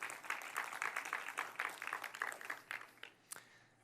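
A small crowd clapping for a volunteer being called up, a quiet scattered round of applause that thins out into a few last claps after about three seconds.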